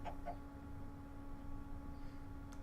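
A couple of short, faint clucks from a Minecraft chicken in the Sky Factory 3 modpack come right at the start, then only a quiet steady hum remains.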